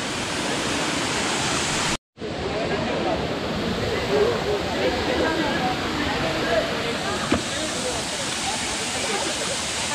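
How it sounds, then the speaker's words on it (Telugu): A waterfall in Kerala roars as a dense, steady broadband rush close by, unbroken apart from a brief dropout early on. "ఈ వాటర్ ఫాల్స్ దగ్గరికి అయితే వచ్చినాము."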